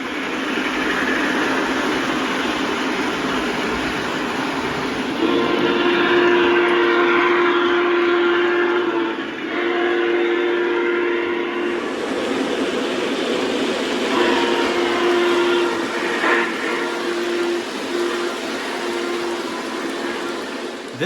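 Lionel Legacy Union Pacific 844 model steam locomotive sound system plays at a train show, with a steady chuffing rumble, a long sustained whistle tone, and a second whistle blast later, loud and close with no talk.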